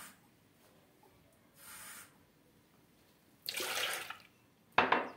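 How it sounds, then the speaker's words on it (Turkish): A glass of water is poured into crepe batter in a home kitchen, heard as brief splashy bursts of liquid separated by quiet gaps, the longest pour near the end followed by a sharp final splash. "Bir su bardağı da su koyacağım."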